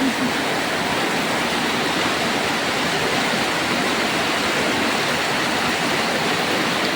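Heavy rain pours down over countryside farmland, a constant, loud, dense wash of noise with no letup across the whole stretch.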